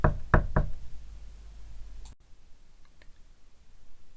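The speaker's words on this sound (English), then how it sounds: "There was a knock again." Three quick, hollow knocks land on a cabin door close by, followed by a faint quieter tap within near-silent surroundings.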